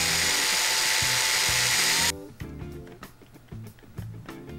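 A power drill whirs in one loud, steady burst for about two seconds, followed by quieter clattering and knocking close by.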